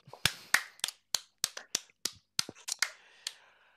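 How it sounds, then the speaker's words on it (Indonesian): About a dozen sharp hand claps in an uneven, loose rhythm, close and fairly loud, each crack separate, with no talking. "Tepuk tangan untuk badut."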